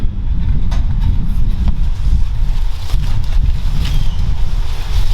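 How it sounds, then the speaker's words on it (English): Strong wind buffets the microphone outdoors in a garden, a loud, continuous rumbling gust with a few sharp bursts of higher rushing noise, no voices heard. "as the wind's picking up"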